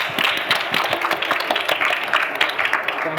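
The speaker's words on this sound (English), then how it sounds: "How about a round of applause for our panel?" An audience gives a panel a round of applause after a Wheel of Fortune themed session, with dense, sustained clapping from many hands filling the room at an even, loud level.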